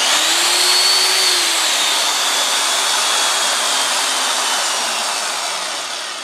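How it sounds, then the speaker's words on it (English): A steady, loud electric drill motor whine powering a grain mill runs continuously with a faint pitch drift, easing slightly toward the end; no voices. "I'll run the drill and show you how it adjusts"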